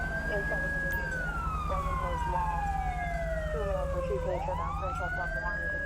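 A police car siren in a GTA 5 police mod wails loudly and continuously, its pitch sweeping up and down in long glides over a steady engine-like rumble, with overlapping tones.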